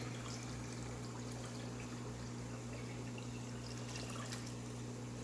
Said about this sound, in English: I can pour it a lot faster than this